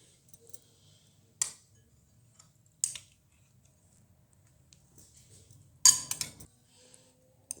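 A metal spoon scrapes and taps on frozen orange ice cream as it is dished out, with a few sharp clinks against the bowl between long quiet gaps.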